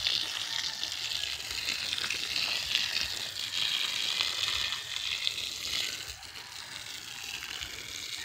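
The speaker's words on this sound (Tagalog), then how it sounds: "bubuan sa nato atong bagong tanim na alagbati" Water pours from a watering can or hose onto newly planted alugbati (Malabar spinach) in the soil, a steady close splashing gush that continues without a break and eases slightly toward the end.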